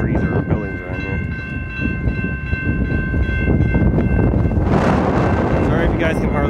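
CN 514, a freight train, rumbles loudly past Chatham VIA station toward the yard, a sustained horn tone held over the rolling noise before fading into heavier rail clatter, with wind buffeting the microphone.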